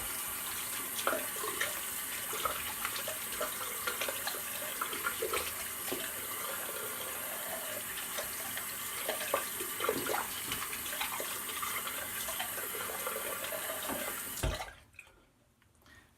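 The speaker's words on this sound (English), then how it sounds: "We will quickly rinse off the face and go into the post." Tap water runs steadily into a bathroom sink for rinsing the face after a shave, a close, even hiss with small splashes from hands, then cuts off abruptly near the end, leaving near silence.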